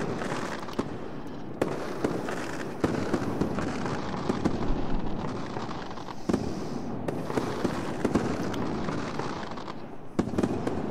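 Fireworks in an Unreal Engine 4 scene burst in a dense, continuous barrage of crackling pops and sharp reports, loud and close, with no talking over them.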